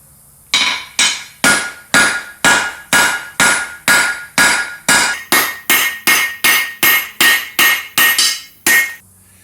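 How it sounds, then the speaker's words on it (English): Hammer blows forging a railroad spike knife blade on the diamond, about seventeen sharp ringing metallic strikes in a steady even rhythm, close and loud, with no talk. "Now this one is forged on the diamond."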